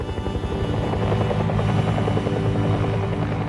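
A Huey helicopter flies close by, its rotor thumping in a steady rapid beat over a loud continuous engine drone, with no voices.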